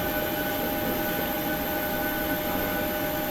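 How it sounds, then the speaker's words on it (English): A PMDG 737-700 airliner pushes back in the flight simulator FSX, with a steady, loud, unbroken jet engine roar and whine throughout. "And we are pushing back."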